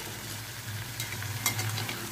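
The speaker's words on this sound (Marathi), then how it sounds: "तीन चार मिनटानंतर आपण थोडं झाकण काढून वांगीची साईड पलटून घेऊया।" Stuffed brinjals with dry fish frying in a pan, turned over partway: a soft, steady sizzle over a low hum, with a brief utensil clink in the middle.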